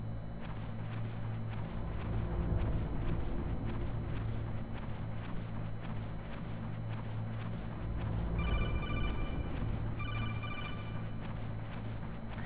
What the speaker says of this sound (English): Every time I hear that, I think my phone's going off.